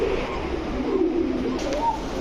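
Soft, low pigeon cooing close by, a couple of brief coos over a faint background hum.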